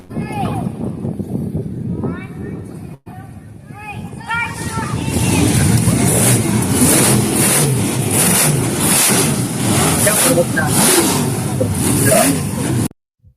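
Race truck engines fire off and rev into a loud, sustained roar that fills most of the recording. A voice is heard briefly before the engines take over.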